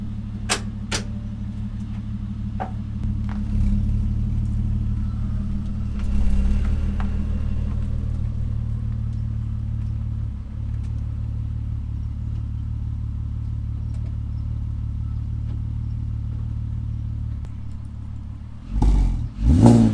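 A Nissan Skyline R32 engine idles with a steady low rumble throughout, with a few sharp clicks early on and a brief rev near the end.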